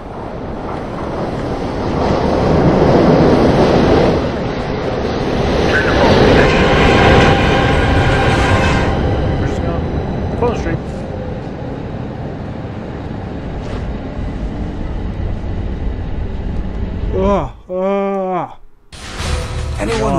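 A subway train in the game Darkness rushes and rumbles loudly through a tunnel, then its roar fades to a lower rolling noise before a sharp transition near the end.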